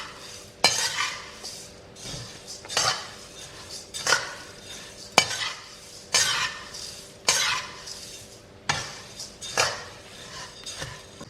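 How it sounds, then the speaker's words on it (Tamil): Coriander seeds dry-roast in a pan over medium-to-low flame, stirred steadily with a utensil: regular scraping, rattling strokes about once a second, close and clear, with the seeds skittering against the metal. "ஓரளவுக்கு மீடியம் டு லோ ஃப்ளேமில் நல்லா கைவிடாமல் வறுத்து விடுங்க"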